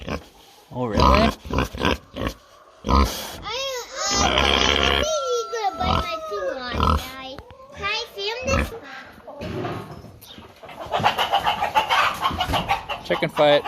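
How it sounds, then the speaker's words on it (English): Farmyard chickens squabble in a fight, clucking and squawking loudly and close, with a pig grunting and people talking over the commotion. "Chicken fight."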